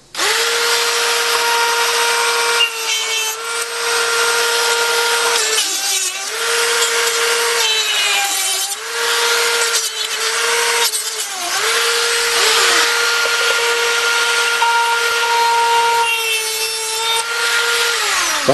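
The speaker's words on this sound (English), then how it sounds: "I'm going to go in there with a Dremel tool and just cut those right off and make them smooth" A Dremel rotary tool cutting off nail points sticking out of wood while building an arcade game controller, heard as a loud, close, sustained high-pitched whine that dips in pitch repeatedly as the cutting disc bites into the metal.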